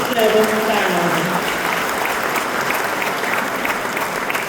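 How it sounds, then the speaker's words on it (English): A room of farming and ranching families at a heritage farm celebration in Perryton, Texas, breaks into steady applause. A voice talks briefly at the start over the clapping, which carries on evenly to the end. "Give yourself a round of applause for that."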